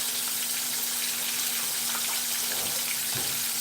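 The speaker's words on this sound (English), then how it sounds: "Now we're all washing our hands again" Tap water runs steadily into a sink for hand washing, a constant close hiss with no talk.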